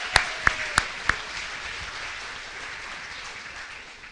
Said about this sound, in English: I just want to give another round of applause to our coaches in the building.